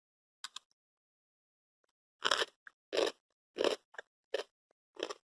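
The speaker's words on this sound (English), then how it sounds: "you can listen to one of my kids chew on it" A child chews crunchy Korean pickled radish banchan up close, giving a few faint early crunches and then a run of six or so loud, evenly spaced crisp bites and crunches in quiet surroundings.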